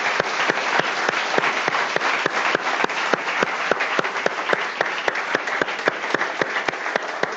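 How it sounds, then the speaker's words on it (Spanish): A church congregation claps together in steady, sustained applause throughout, a dense rush of many hands close by with no voices standing out. "Dele un aplauso al Señor, hermano"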